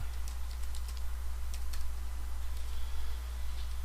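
Computer keyboard typing out a password while registering a new account, a run of quick, light, irregular key clicks over a steady low hum with no talking.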